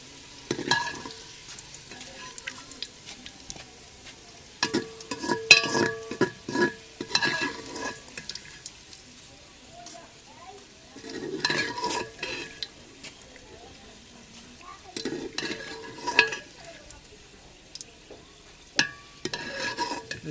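Onions browning in a pan sizzle quietly while a spoon stirs them in bursts of scraping and clinks, with brief pauses between stirs and little talk.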